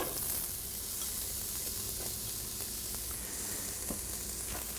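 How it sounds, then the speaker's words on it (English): Quarter of a medium onion, diced, sauteing in melted butter for lamb vindaloo, a steady close hiss of sizzling with occasional faint pops and stirring taps, no talk. "I'm going to saute that till it starts to get tender"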